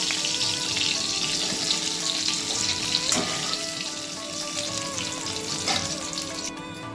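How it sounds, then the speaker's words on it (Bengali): Cauliflower florets frying in hot oil in a pan, a dense continuous crackling sizzle with a few clinks and scrapes, close and steady throughout. "এইবার ফুলকপিগুলো ভাজা হয়ে গেল"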